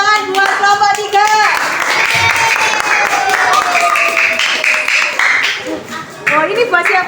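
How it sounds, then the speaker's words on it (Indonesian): A classroom group applauds another group of presenters, brisk clapping from many hands running throughout while voices and a child's chatter carry over it. "Oke, beri tepuk tangan buat kelompok 3."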